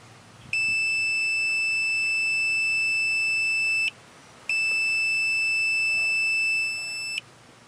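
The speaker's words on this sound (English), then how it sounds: "we'll hear the beep inside the cabin" Curb alarm beeping inside a car cabin after the curb detector arm is pressed: two long, steady, high electronic tones, each about three seconds, separated by a short gap, clear over a faint hum.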